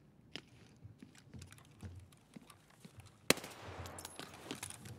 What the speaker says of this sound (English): Oh, someone shooting me, someone shooting.